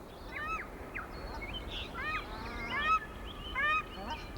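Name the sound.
paradise shelduck calls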